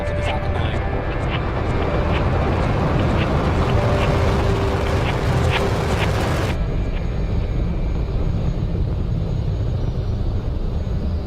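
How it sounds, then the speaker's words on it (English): A Falcon 9 rocket lifts off with a broad, loud, continuous roar that dulls noticeably partway through, while voices talk over it. "Liftoff of the Falcon 9."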